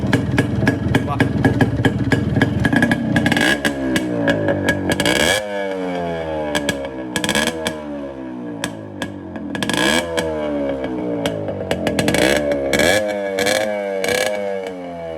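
A 1991 Yamaha RX100 two-stroke motorcycle engine revs repeatedly, sharp rising blasts followed by crackling drops back to idle, loud and close, with some talk in between.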